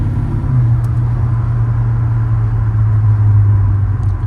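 A 1956 Chevrolet Bel Air with a Tri-Power small block and 700R4 overdrive automatic drives along with a steady, close, deep engine drone and a low hum holding constant throughout, with no talking.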